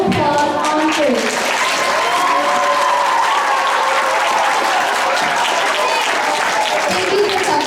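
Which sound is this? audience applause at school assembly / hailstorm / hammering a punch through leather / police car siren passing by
audience applause at school assembly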